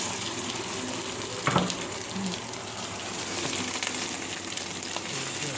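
Salmon pieces sear in a smoking-hot pan with a continuous broad sizzle. One brief clatter of the pan or utensil breaks in early on, and no voices are heard.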